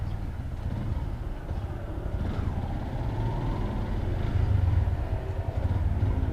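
Motorcycle engine idling steadily after a tune-up that fixed a noisy rocker arm, a continuous low rumble close by with no voices over it.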